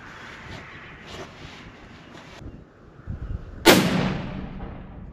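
A hunting rifle shot through a chronograph cracks sharply and loudly once, trailing off in a long outdoor echo; faint wind and handling noise come before the shot.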